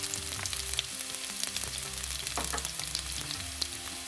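Sliced shallots and ginger sauté in a pan for a sardine curry, giving a steady, moderate sizzle with light crackles, a low background hum and no talking.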